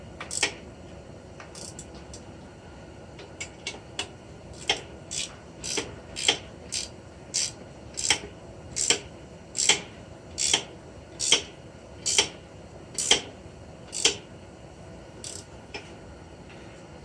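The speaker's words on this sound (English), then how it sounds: "ratcheting wrench is your friend in this case." A ratcheting wrench works bolts on a snowblower drive, giving a steady series of sharp metallic clicks in regular strokes, close and clear in a quiet space.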